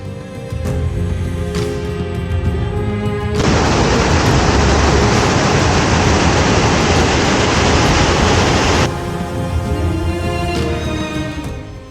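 Athabasca Falls, a large, powerful waterfall on the Icefields Parkway, roars as a dense, steady broadband rush that swells to a loud, constant wall of water noise through the middle, with softer, more tonal surroundings before and after.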